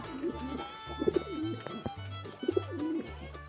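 Fancy domestic pigeons coo close by in a repeated low rhythmic pattern, soft throaty calls recurring every second or so against a quiet background.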